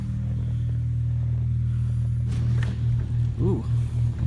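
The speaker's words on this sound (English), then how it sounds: "it opened my garage door" A garage door opener motor drones steadily as the door opens while a Tesla is summoned from its app on a snowy day. The low, continuous hum runs throughout, and a voice speaks briefly over it near the end.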